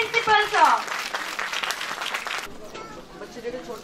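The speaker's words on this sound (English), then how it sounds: "give a great round of applause for our principal, sir" An audience at a school annual day applauding the principal: a burst of clapping rising under a spoken voice, then fading into scattered claps.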